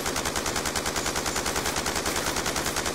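Rapid automatic gunfire from the shooter game Black Ops 2 rattles in a steady, loud, continuous burst of evenly spaced shots with no pauses.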